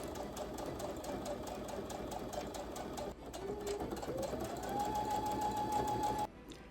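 Sewing machine stitching boning channels on 1780s stays, a steady, fast mechanical whirring and clatter up close, rising slightly in pitch before stopping abruptly.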